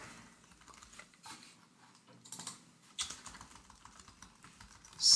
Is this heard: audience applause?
no